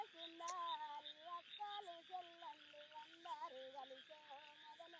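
Frogs croak in a soft chorus of quick, repeated warbling calls, fairly faint and steady throughout, with no voices.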